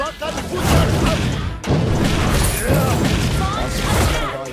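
Fire rain shot skill from the hero Yi Sun-shin in a mobile battle game: heavy booming impacts and crashing blasts in quick succession, loud and dense, with a brief cut midway and game voice lines mixed in.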